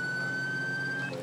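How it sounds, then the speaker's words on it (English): A police car siren in the video game GTA 5 with UK police mods holds a steady, piercing electronic wail, loud and close, then shifts tone right at the end, with no voices. "We'll turn our sirens off as soon as we get there."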